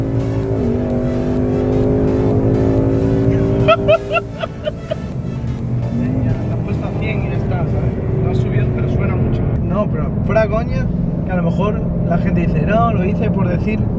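A car engine hums and revs up through rising pitch as the vehicle accelerates, with people talking over the continuous motor noise inside the car.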